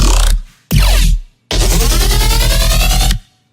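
Synth bassline reinforced with an added external sub bass: three loud, buzzy, gritty notes with deep low end, two short stabs followed by a longer sustained note, played alone.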